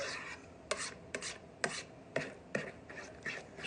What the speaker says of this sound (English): I'm going to mix this all together thoroughly